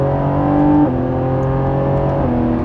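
Lamborghini Revuelto with an 8-speed dual-clutch gearbox accelerating hard: a loud, close engine roar climbs in pitch, with two quick drops in tone as it snaps through gear changes. No one speaks.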